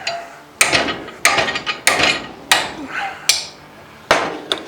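A welded steel test piece clamped in a vise with the weld at the jaw, struck by a hammer to break it during a boat refit: about six loud, sharp, evenly spaced metallic blows, each ringing briefly before fading.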